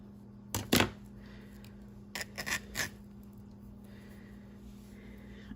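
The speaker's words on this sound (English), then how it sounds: "So I'm just ripping a few strips off." Gauzy linen fabric tears as strips are ripped off, two short rasping bursts close by, the first sharper and louder, against a faint steady hum.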